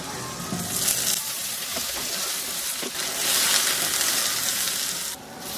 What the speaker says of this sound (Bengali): এখন এই একই তেলে আমি আর একটু হলুদের গুঁড়া দিয়ে, একটু লবণ দিয়ে এই বেগুনগুলোকে ভেজে নিব